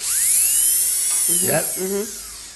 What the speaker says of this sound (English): you scratch it out then with a dentist drill